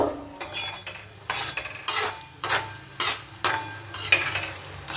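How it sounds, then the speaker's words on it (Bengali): Radish and matar dal with sugar is stirred and fried in a pan, with a spoon scraping in regular rhythmic strokes about every second over a low sizzle. The sound is close and fairly loud, with no speech. "চিনিটা একসঙ্গে মিশিয়ে আর একটু কষে নেব"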